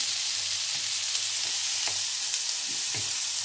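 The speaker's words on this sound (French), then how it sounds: "je remélange à nouveau pour faire suer mon chorizo" Mild chorizo frying in a pan as it is stirred: a steady, soft sizzle with occasional scraping strokes and small pops, fairly close and even throughout.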